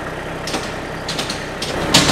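A micro-tractor's small engine runs steadily at low volume, a continuous light mechanical hum with a few brief louder bursts, heard alone without talk.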